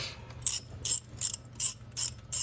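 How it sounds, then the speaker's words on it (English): Five quick ratchet bursts, evenly spaced and close, as a wrench loosens a cylinder head bolt on a 6.4 Hemi engine during head gasket work, with a low hum underneath. "We're gonna go ahead and break this other one loose on this side and see how loose it is."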